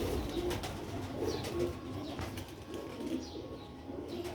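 Sialkoti pigeons kept for sale coo in close, repeated soft throaty phrases, with occasional light rustling in between.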